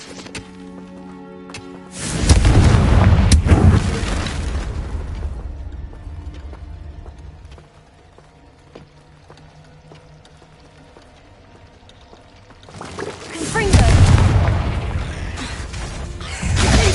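Confringo blasting spells go off in a Harry Potter video game: two loud, booming bursts several seconds apart, each followed by a decaying rumble, with quieter clattering mechanical ambience in between.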